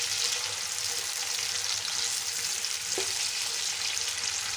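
Chopped onions, three medium ones, sizzle and fry in a hot pan, a dense, steady crackling hiss, loud and close, with a single faint clink partway through.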